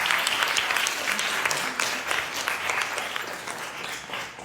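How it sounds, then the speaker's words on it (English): Warm, continuous applause from a community theatre gathering audience after a scene, steady and fairly close, dipping briefly before ending. "Give this group a round of applause."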